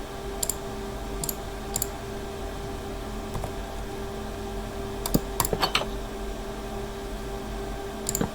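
Someone types a Minecraft command on a computer keyboard, with sparse bursts of crisp key clicks scattered over a steady low hum, close and fairly quiet, with no talking.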